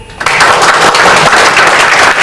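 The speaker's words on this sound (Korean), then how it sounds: "우리 다 함께 박수로서 우리 환영하십시다" A church congregation at an evangelistic meeting bursts into applause, loud dense clapping that starts abruptly and holds steady throughout, with no voices over it.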